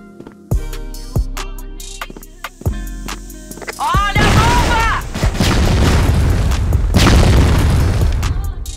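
A grenade goes off in a first-person shooter, a loud booming blast that follows sharp gunshot cracks and then rolls into a sustained rumbling wash of noise.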